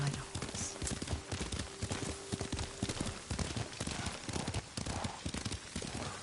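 A ridden horse's hooves clip-clop in a steady, close walking rhythm in the feudal Japanese game Ghost of Tsushima, the hoofbeats continuing under a conversation.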